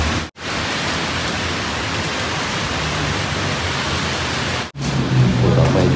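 Steady, even rain falls throughout, a dense hiss with short breaks in the sound, and a faint low hum joins near the end.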